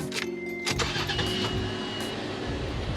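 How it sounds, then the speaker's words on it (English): A Toyota FJ Cruiser engine cranks and catches after a lithium battery install, the starter whir giving way to a steady running idle, close and fairly loud, with no talking. "You should test if the car still turns on."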